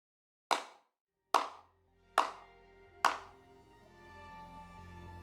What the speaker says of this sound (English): At that moment, there was a sudden burst of applause from the side.